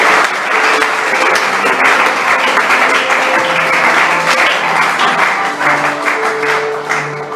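A church congregation applauds in praise of the Lord, a loud, sustained burst of clapping from many hands that fills the room, with a few faint voices underneath.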